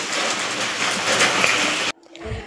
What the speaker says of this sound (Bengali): তো বাইরে আরো জোরে বৃষ্টি পড়ছে।